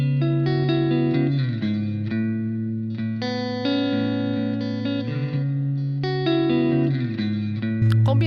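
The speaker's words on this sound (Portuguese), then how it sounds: "para dedilhados mais lentos, super funciona esse reverb mais longo" Slow fingerpicked guitar drenched in long reverb, sustained notes ringing and blending into one another as chords shift, loud and alone with no talking.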